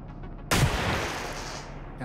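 A single sharp gunshot from a handgun in the shooter Receiver 2, loud and close, with a decaying echo tail after a quiet lead-in.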